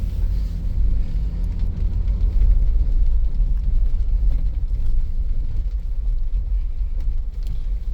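A 2023 Ford Bronco Badlands rolls slowly into a parking spot, its engine giving a steady low rumble heard from inside the cabin, without sharp revs or spoken voices.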